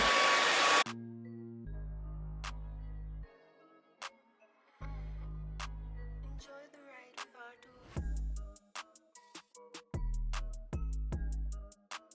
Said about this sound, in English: You see the volume that the blow dry created?